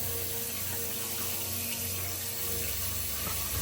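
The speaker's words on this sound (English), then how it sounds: "I just run the water over it and rinse it from this side." Water runs steadily from a tap over a jacket in a Zeny portable washing machine during rinsing, a constant close splashing rush with no pauses.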